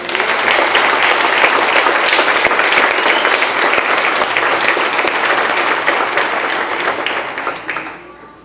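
A large church congress crowd applauds loudly and steadily, a dense wash of clapping that holds for several seconds before fading away near the end.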